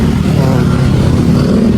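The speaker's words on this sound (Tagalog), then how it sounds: "Grabe yung motor, dami motor no?" Heavy Manila traffic with many motorcycles produces a loud, dense, continuous engine drone close by, with no voices.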